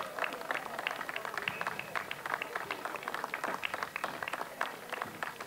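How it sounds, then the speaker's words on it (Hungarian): Audience applauding a folk dance group at a stage performance, with steady dense clapping from a crowd that keeps going throughout. "Utána a hölgyeknek is egy hatalmas taps."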